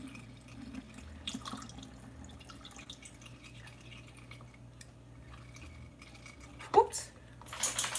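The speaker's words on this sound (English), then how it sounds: "Water sounds." A kitchen tap runs with a soft, steady flow under faint background murmur, ending in a couple of brief clinks and splashes of dishes in the sink.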